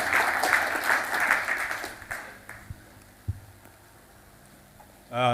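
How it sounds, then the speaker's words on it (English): Audience applause at an optics and lasers summer school session, a dense burst of clapping for about two seconds that thins and fades into quiet room tone, with a few isolated thumps near the end. "A clap for Christabel."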